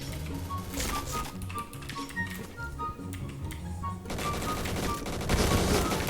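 Many guns firing in a video game: dense, continuous rattling bursts of rapid shots with scattered pings, loud and layered, intensifying toward the end, with some faint voice underneath.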